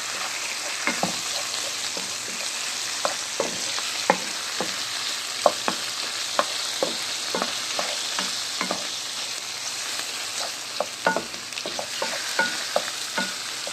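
Camel liver frying with a pepper mixture in a pan, a continuous loud sizzle with frequent sharp clicks and scrapes from stirring, close up and without voices.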